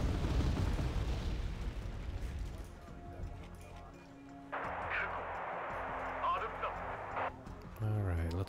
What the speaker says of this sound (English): Now we gotta wait for the bombs to arrive.